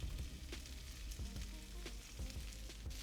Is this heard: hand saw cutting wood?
no